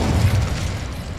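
A fire spell cast in Hogwarts Legacy bursts out as a loud, dense whoosh with a heavy low rumble that sustains and slowly fades over a second.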